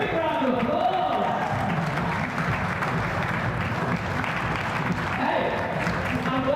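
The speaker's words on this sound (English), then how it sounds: "Big round of applause!" A crowd at a tennis event applauds and cheers in a sustained, dense wash of clapping, with voices shouting over it throughout.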